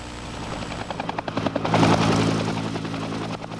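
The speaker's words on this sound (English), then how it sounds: "A National Guard chopper lands at the Asheville Regional Airport for refueling." A National Guard helicopter setting down at Asheville Regional Airport in a 1993 blizzard, its rotor thumping in a steady rapid beat that swells into a loud, broad roar as it lands, with no voices.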